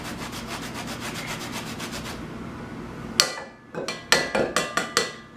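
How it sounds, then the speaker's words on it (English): Lemon being zested on a cheese grater: a steady, soft rasping scrape for about three seconds, followed by a series of sharp taps and knocks, close and alone with no talk. "we're going to take our cheese grater, aka zester for this video, and we're going to zest this lemon"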